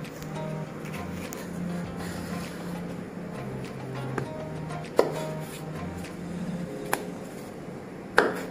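A knife cuts cucumber for a Chinese cucumber salad, a few sparse, sharp chops on a board spaced seconds apart over a steady low background hum.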